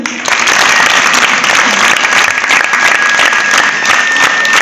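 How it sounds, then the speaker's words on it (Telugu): An audience at a memorial gathering claps loudly and steadily, a dense, close burst of applause that carries on without pause through the whole stretch, with no voices on top. "అందరూ కూడా చప్పట్లు పెట్టండి"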